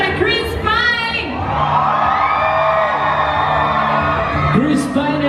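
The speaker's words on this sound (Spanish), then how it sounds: "Que se escuche ese grito para Chris Pine." A large crowd screams and cheers loudly for Chris Pine on the red carpet at the Dungeons & Dragons Mexico premiere, with high whoops and yells rising and falling over a constant roar of voices.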